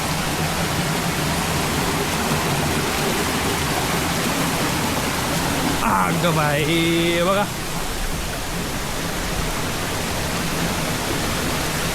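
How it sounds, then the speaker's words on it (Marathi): Adoshi waterfall near Khopoli pours as a steady, loud rush of water close by, a constant broadband roar, while a voice briefly exclaims over it partway through. "वॉटरफॉल जबरदस्त आहे की"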